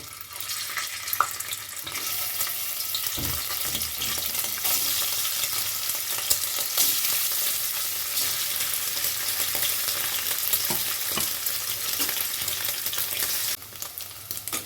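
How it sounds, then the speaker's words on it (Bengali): Paneer pieces fry in hot oil, a steady loud sizzle with occasional stirring clinks, close and continuous. "তেল গরম হয়ে গেছে পনিরের টুকরোগুলোকে হালকা করে ভেজে নেব"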